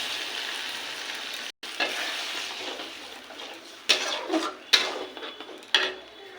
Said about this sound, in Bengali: তেল ছেড়ে এসছে, এবার দিয়ে দেবো সর্ষে বাটার জল।